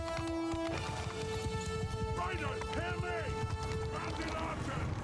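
Horses gallop through a battle in the medieval combat game Mount & Blade II: Bannerlord, a steady drumming of hooves under a constant layer of sustained musical tones and battle noise.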